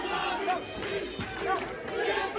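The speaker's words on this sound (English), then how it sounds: "You hear the crowd right there." A pro wrestling crowd roars during a Heritage Championship match, a continuous swelling wash of cheering and shouting from a large audience.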